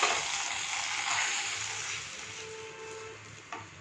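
A mixture poured into hot ghee in a pan with fried cashews for modhagam hisses and sizzles steadily, loud at first, then settling into a softer bubbling crackle.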